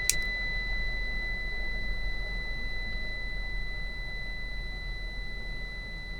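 A steady electronic buzzer tone sounds continuously inside a Toyota FJ Cruiser during air-conditioning switch troubleshooting, with a brief click at the start and a faint background hum throughout.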